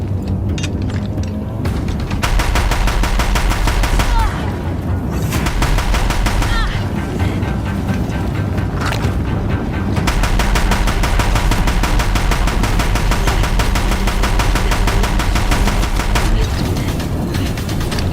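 Deathbringer war machines in Horizon Zero Dawn unleash long, loud streams of rapid automatic fire with brief pauses and booming impacts, continuing almost throughout.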